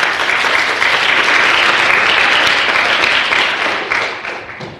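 A seated audience at a police surveillance panel discussion claps loudly and steadily for the panelists, the applause fading out toward the end.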